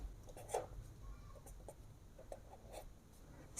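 Soft scratchy strokes of writing on a board in a quiet classroom, a few short marks and scrapes spaced irregularly, faint and close, with no talk.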